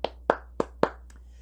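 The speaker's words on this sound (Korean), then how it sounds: "하나님께 영광의 박수" A few distinct, sharp claps ring out in a church worship service, four evenly spaced loud hand claps followed by a fainter one, close and alone with no voices over them.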